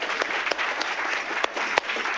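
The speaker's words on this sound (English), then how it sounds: "please give Donald a round of applause" Audience applause at a workshop on minority participation in international arbitration, steady even clapping from a medium-sized room, moderately loud and continuous for about two seconds with a few sharper claps standing out.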